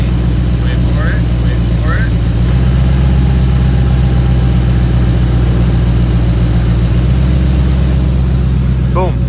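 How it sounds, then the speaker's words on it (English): A 2009 Nissan Marquis with a five-speed, engine idling steadily while the A/C compressor cycles on, giving a loud constant low drone with a high whine on top and faint chirps near the end. "Boom, it's cycling the AC compressor."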